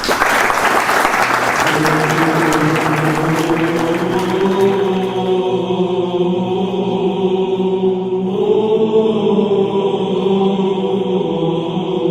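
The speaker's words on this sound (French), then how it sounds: "je vous demande de l'applaudir" An audience applauds a speaker being welcomed at a French lecture, a dense burst of clapping that gives way midway to a voice talking over the fading applause.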